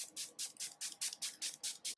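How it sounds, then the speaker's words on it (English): Setting spray misted onto a face in close, quiet bursts: about nine quick hissing sprays in a steady rhythm, with no talking. "I am going to spray some setting spray."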